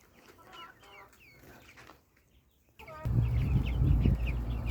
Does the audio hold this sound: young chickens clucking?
yes